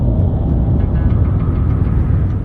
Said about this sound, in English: One theory claims that the sand might produce this sound while sliding down the dunes because of the friction between its grains.